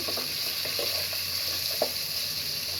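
Chopped carrots and peas fry in a pan, a steady hiss with a few soft stirring knocks near the front, continuous and moderately loud, with no one talking.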